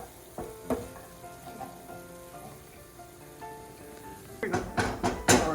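Salmon curry cooking in a pan, a soft, steady sizzle with scattered crackles and pops that grow louder and denser toward the end.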